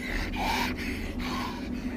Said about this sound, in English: like heavy breathing.